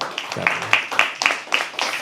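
Audience at a live poetry open mic claps in a loose, uneven burst of hand claps, fairly close and moderately loud, with a voice or two faintly mixed in.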